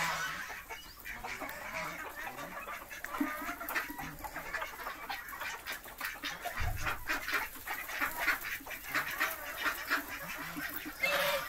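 Desi gavran chickens and ducks on a poultry farm keep up a steady background of clucking, honking and quacking, with no talking.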